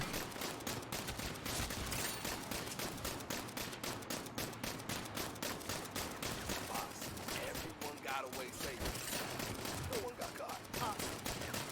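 Continuous gunfire in the video game Saints Row (2022), rapid evenly spaced shots pounding on without a break for reloading, steady and fairly loud, with people talking over the top.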